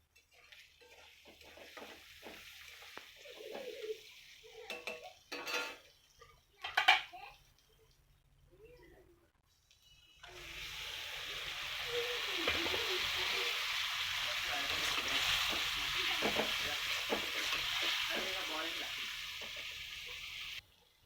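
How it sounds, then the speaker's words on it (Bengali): Mutton sizzles in a pan alongside previously fried potatoes, with intermittent scraping and clinks of stirring at first, then a steady, louder frying hiss in the second half. "মাংসটা ভালোভাবে কষিয়ে নেব।"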